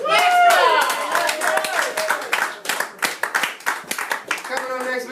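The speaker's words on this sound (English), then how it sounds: "let's do a big round of applause for NASCAR again here." An open mic comedy audience gives a round of applause, a dense burst of clapping with whoops and voices that thins into scattered claps before talk resumes.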